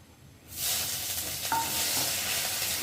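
Ginger paste hits hot oil with fried whole spices for moong dal, bursting into a sudden loud sizzle after a brief quiet moment, then a steady hiss with a faint utensil scrape.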